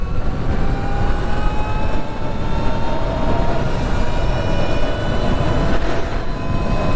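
A 2023 Sur-Ron X electric dirt bike runs at full throttle in sport mode, giving a steady, rising motor whine over loud, continuous rushing wind noise with no pauses.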